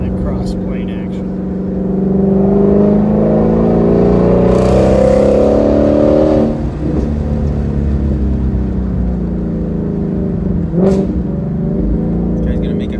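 A 526-horsepower car engine pulls hard on a curvy road, a loud, sustained rising drone heard from inside with a brief shift dip, while people talk over it.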